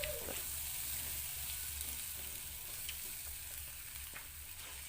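Fried chicken liver and gizzard are stirred into a cooked spice paste in a pan, giving a steady low sizzle with a few soft scrapes of the spoon, close by and with no voices.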